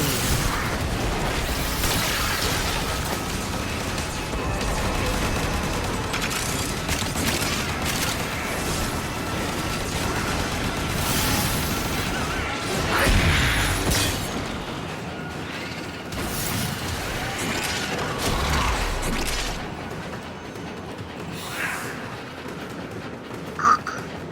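Explosions in a video game, triggered by arrows shot from a bow, make a dense, continuous wash of booms and crashing bursts that stays loud throughout, with no speech heard.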